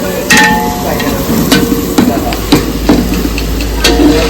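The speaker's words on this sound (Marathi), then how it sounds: "कांना फोडणी चालू आहे का?" Spices tempering in hot oil in a pan for onion poha give a steady loud sizzle, broken by sharp metallic clatters of the spoon against the pan.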